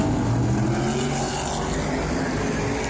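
Modified race cars lapping the Bowman Gray Stadium track during a 2022 race, a loud, steady, dense engine roar from several cars at once with no breaks throughout.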